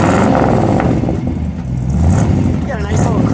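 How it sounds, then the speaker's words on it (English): A 1955 Ford Fairlane Crown Victoria with dual exhaust revving its engine, a loud, rough rumble rising and falling nearby, with voices talking over it. "Give it a rev, would you please?"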